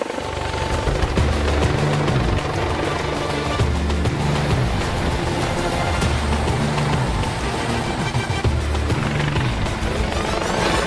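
An air ambulance helicopter powering up at its base, a loud continuous turbine roar with a rhythmic rotor throb building steadily, close by and without voices.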